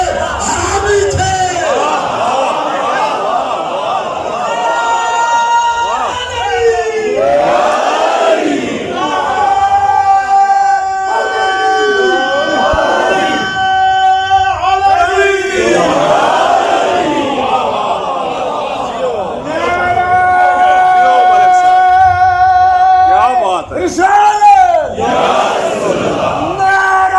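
A large crowd at a Muharram majlis in Bagh, Kashmir, loudly chants slogans in repeated rising waves of massed voices, sustained and close, with leader calls and crowd responses alternating throughout.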